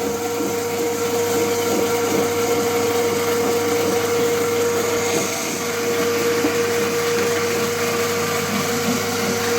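Constant loud whirring drone of a machine grinding and lapping the channels of a pellet mill die, running steadily without pause, no voices.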